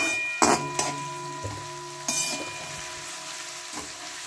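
Chopped onions tip into hot oil for a vegetable chow mein, setting off a steady close sizzle and crackle of frying, with a few louder hisses and light stirring knocks as they go in.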